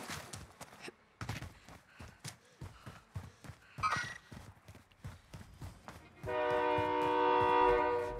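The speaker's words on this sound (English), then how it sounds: "Hey, watch out, train's coming." A train rolls through a video game match, its horn blaring loud and steady over the last two seconds after a stretch of scattered clattering and thumps.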